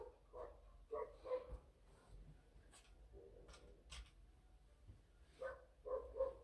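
Lola, the neighbour's dog, gives several short barks and yips in scattered bursts, fairly distant and muffled, with quiet gaps between them.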